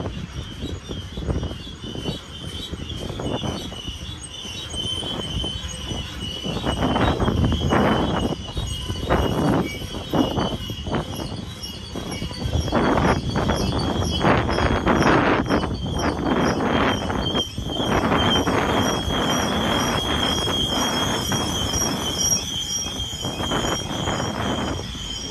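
A heavy freight manifest train rolls downgrade near Verdemont, San Bernardino, its wheels giving off a loud, sustained high-pitched squeal that wavers and persists over deep rumbling and clanking wagons.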